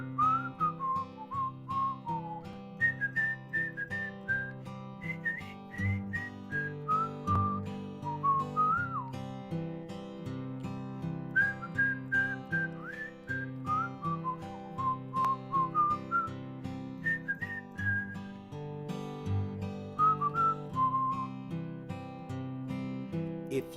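A person whistles a wandering melody over soft background music, the bright pitched notes sliding and bending in short phrases, clear and close.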